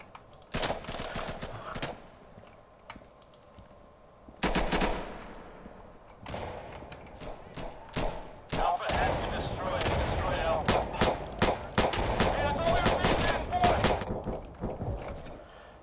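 Handgun fire in the video game Insurgency, on the map Embassy: sharp single and rapid pistol shots crack close by in bursts, some echoing from a distance, with long stretches of continuous firing.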